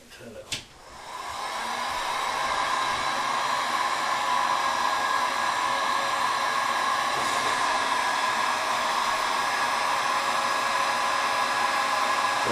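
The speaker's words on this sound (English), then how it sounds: "I run the heat gun on number two." Heat gun running on setting two for bending acrylic PC tubing, a click at switch-on followed by a steady loud blowing roar that holds without change throughout.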